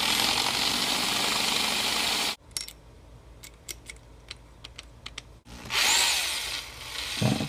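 A power drill with a speed-out bit whines loudly removing stripped screws, stops for a stretch of light clicking and handling noises, then revs up again near the end.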